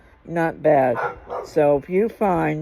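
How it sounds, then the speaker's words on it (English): Several dogs bark repeatedly in short, harmonic yelps, fairly close and loud, while someone talks over them. "sorry about the dogs barking back there"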